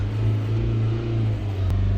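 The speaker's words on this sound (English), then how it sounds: "So we'll hold the revs up around sort of 3000 RPM until all of the steam sort of goes away." A Nissan NV200 van with a 1.5 dCi diesel and a particulate filter pressure sensor fault is held at raised revs, around 3000 RPM, producing a steady, close engine hum with a brief click near the end.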